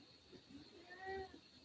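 A cat meows faintly in the background, one drawn-out mew with a rising pitch, quiet and distant beneath a low room hum.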